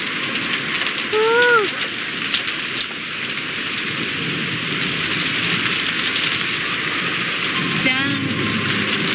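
Steady rain with wind fills the scene in the visual novel Umineko no Naku Koro ni, a constant hiss throughout, with a brief tonal sweep early and another near the end rising above it.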